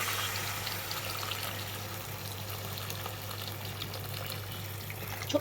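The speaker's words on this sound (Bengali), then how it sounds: "আমি এবার গরম জলটা দিয়ে দিচ্ছি।" Hot water poured into a pan of fish head curry makes a continuous soft rushing splash with a low steady hum beneath, ending with a small knock.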